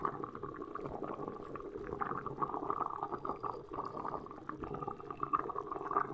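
Fish and eggplant curry simmers in a pot on a stove, giving a steady, soft bubbling and sizzling that holds at an even level throughout with no talking.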